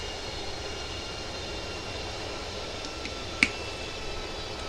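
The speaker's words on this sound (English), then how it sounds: "or if you're happy to hear the engines of the A319" Airbus A319 engines in Microsoft Flight Simulator 2020 on an easyJet flight from Bristol to Inverness: a steady, even broadband jet drone held at constant level throughout, with one brief faint click partway through.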